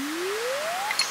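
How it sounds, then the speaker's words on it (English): A phone notification goes off in a quiet room, a single soft rising tone followed by a couple of brief bright chimes, heard faintly over game background sound. "I just heard my phone go off."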